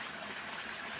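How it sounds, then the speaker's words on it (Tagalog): Soft, continuous babble of a stream flowing in Quezon, Philippines, faint and even throughout the short moment. "Napakaganda po ng batis po dito."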